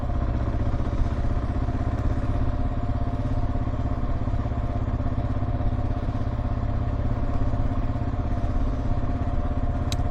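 A motorcycle rides toward the town square in Veracruz, Mexico, its engine a steady, close drone that holds without a break for the whole stretch, with no talking over it.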